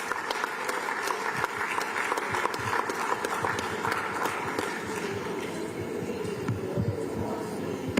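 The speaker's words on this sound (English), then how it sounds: "Please, can we give him another round of applause" Audience applause for a keynote speaker at a Nigerian newspaper's 70th anniversary event, a dense steady wash of many hands clapping across the whole stretch, fairly close and continuous with no talk over it.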